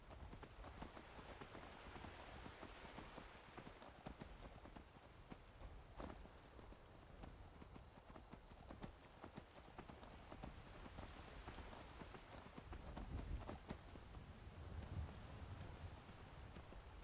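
Horse hooves clip-clopping at a steady walking pace in Skyrim, a long run of soft, even hoof beats over faint ambient insect chirping, quiet and consistent throughout.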